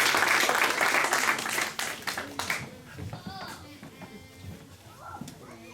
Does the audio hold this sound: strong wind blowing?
no